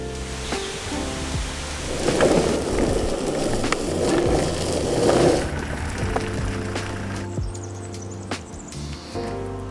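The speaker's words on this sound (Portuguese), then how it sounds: "e está de chuva" Rain falls outside a motorhome, a steady hiss and patter on the surface with a low rumbling background, louder in the middle stretch and easing toward the end, with no one talking.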